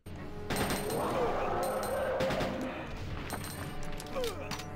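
Shots from an enhanced handgun fired at the crocodile boss in Resident Evil 2, a run of sharp reports over game noise and roaring, with a person talking over parts of it.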